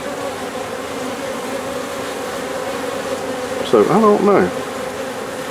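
Honeybees buzz in a dense, steady hum at a busy hive entrance, with foragers arriving and carrying in pollen. A voice briefly speaks close by, partway through.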